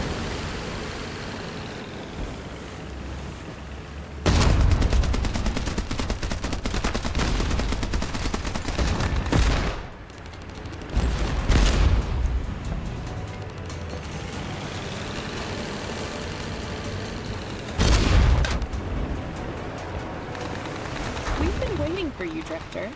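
Ship cannons firing in the naval game Age of Water, heavy booming blasts in a few separated bursts with rumbling noise between them, loud over an ongoing background drone.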